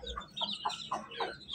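A hen on eggs clucks softly in a series of short, faint, close calls, with low rustling between them and no one talking.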